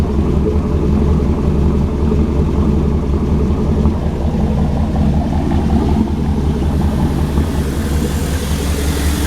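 An LS-swapped TBI truck idles with the exhaust close by, a steady deep low rumble with a constant hum that carries on evenly for several seconds and has no talking over it.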